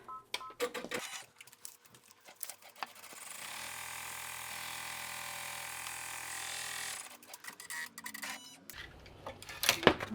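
Embroidery machine stitching a placement box: a steady mechanical whirring run of rapid stitches lasting several seconds, framed by quieter clicks and handling noises before and after.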